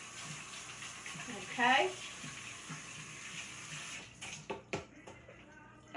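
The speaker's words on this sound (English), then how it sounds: "I just want to rinse my hands." A kitchen faucet running as hands are rinsed during pizza making, a soft steady water hiss with a brief louder splash, followed by clatter, under a woman's brief speech.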